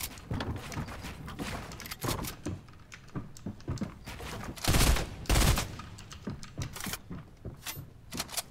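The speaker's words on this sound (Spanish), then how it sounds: "Disparos." Rapid bursts of gunfire crack repeatedly, irregular volleys with a couple of louder heavy blasts, from combat in the game Fortnite.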